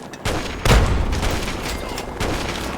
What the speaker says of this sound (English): let's toss a grenade up here